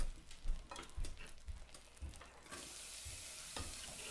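Shallots fry in butter in a pan with a steady sizzle, broken by a few soft rhythmic stirring knocks and scrapes early on.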